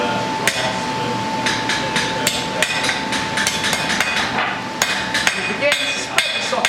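Hammer blows on a bodkin arrowhead socket shaping it on an anvil at a forge, a loud, close series of sharp metallic strikes in an uneven rhythm over a steady background hum.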